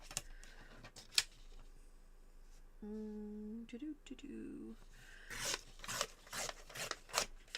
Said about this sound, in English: Let's just tear this.